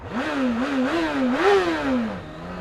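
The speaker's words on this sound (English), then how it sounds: "as it's warming up, it is feeling smoother and better. The oil's getting around the engine." A Kawasaki ZX9R motorcycle warming up runs close and fairly loud, its engine note wavering up and down with small throttle changes before settling lower.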